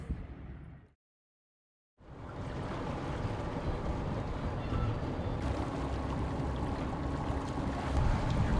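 A sailboat motors away from Taormina, Sicily, toward the Messina Strait, giving a steady engine drone mixed with rushing water and wind noise after a brief silent gap.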